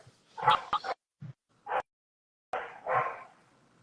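A dog barks several times in the background during a podcast conversation, a few short yaps and whimpers spaced irregularly.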